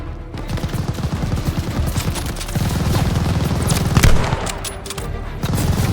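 Rapid, loud machine gun fire from a half-track in Call of Duty: Vanguard, sustained bursts of close, rattling shots with a heavier boom partway through.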